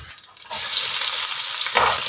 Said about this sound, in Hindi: प्याज डाल देते हैं ऑयल के अंदर।